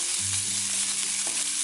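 Steak frying in a pan is broken up with a utensil, giving a steady loud sizzle with faint scraping underneath and no voices.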